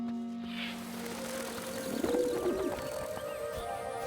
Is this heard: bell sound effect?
no